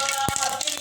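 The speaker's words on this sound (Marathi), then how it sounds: "मोहरी चांगली तडतडली" Mustard seeds crackle in hot oil, a quick burst of sharp pops over a steady sizzling hiss.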